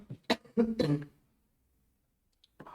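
Two or three sharp, harsh coughing bursts close to the mic in quick succession, then quiet, followed by the start of another cough.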